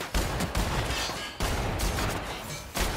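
Shot cannon fire in the video game The Outer Worlds, a few dense booming bursts in close succession, loud and crackling with brief gaps between volleys.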